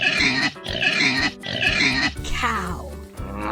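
A pig grunts and oinks in three rapid, rough bursts followed by a longer squealing snort, close and fairly loud with nothing else over it.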